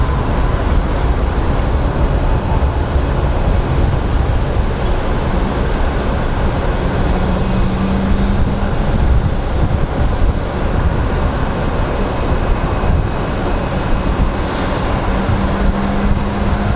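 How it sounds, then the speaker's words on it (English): Airliner jet engines powering up at Phoenix Sky Harbor International Airport, a loud, steady broadband roar sustained throughout with a constant low rumble and no talk. "I love hearing jet engines power up."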